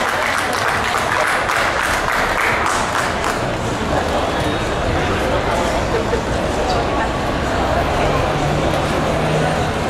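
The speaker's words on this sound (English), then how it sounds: "A big round of applause, please, for making this wonderful event possible." Crowd applauding at the Malaysian premiere of the film Resident Evil: Retribution, a steady wash of clapping and crowd noise that holds at the same level throughout.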